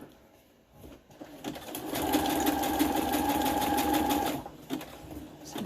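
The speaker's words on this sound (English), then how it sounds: "I'm going to bring my sewing machine down again and do that again" A sewing machine zigzag-stitches a paper collage, its rapid rhythmic hum running for a couple of seconds between quieter handling noises.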